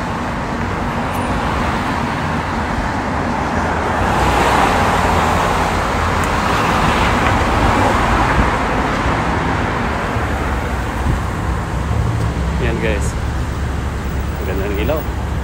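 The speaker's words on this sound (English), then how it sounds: "Dito tayo guys sa bus stop." Steady roadway traffic at a bus stop in Abu Dhabi, a continuous roar of passing cars and buses that swells in the middle, with faint chirps and a voice talking briefly.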